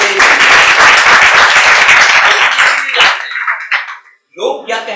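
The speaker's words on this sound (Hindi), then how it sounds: "ताली आपके लिए।" Student audience at a motivational seminar breaks into dense, loud applause for about three seconds, which thins and fades before a voice begins speaking.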